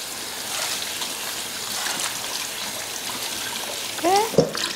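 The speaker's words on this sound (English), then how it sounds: "I normally put it under cold water." Cold water from a kitchen tap trickles over strained vermicelli, a soft steady running wash with a short speaking voice and a clatter near the end.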